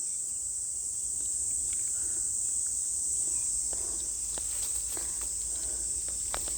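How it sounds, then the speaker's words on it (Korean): Cicadas drone in a dense, continuous high-pitched buzz in a natural outdoor setting, steady throughout, with faint scattered rustles and soft movement sounds beneath. "여기 너무 매미 소리,"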